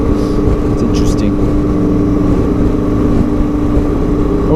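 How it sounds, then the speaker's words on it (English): Semi-dirt, semi-road tyres rolling on a road, giving a loud, constant whirring drone with a steady tonal hum, much like engine noise, mixed with the vehicle's running sound and continuing unbroken throughout. "There's a bit of a whir to them."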